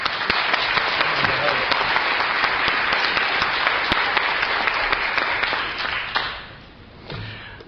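An audience at an Al-Anon Spring Fling gathering in Sacramento applauds a speaker, a dense, sustained round of clapping that tapers off after about six seconds, followed by a brief quieter stretch.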